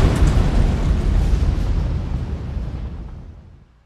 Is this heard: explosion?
yes